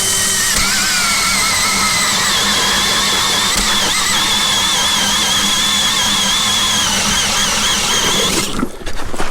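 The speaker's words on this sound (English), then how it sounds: "I'm going to drill a new hole right beside my last test hole" A Jiffy Ice Scout auger bores a fresh hole through first ice, its motor whining loud and steady with a high, wavering squeal for several seconds before cutting off abruptly near the end.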